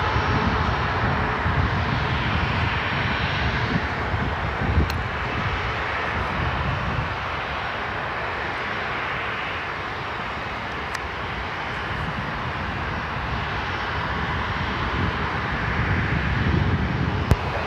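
Aircraft engine noise at Seattle-Tacoma International Airport beside runway 34 right, a steady broadband roar that swells slightly toward the end, with no talk over it.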